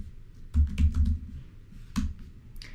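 Short bursts of computer keyboard typing while entering a search term: a quick cluster of key clicks followed by a couple more taps, close and fairly quiet, with no talking over them.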